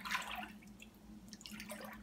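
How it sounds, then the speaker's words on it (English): A spatula paddles through water with its plastic wrap removed, giving soft, close splashes and drips with a light sloshing burst near the start and another toward the end. "we're trying the spatula out, paddling without the plastic."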